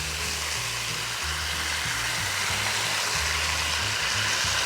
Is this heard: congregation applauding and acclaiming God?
no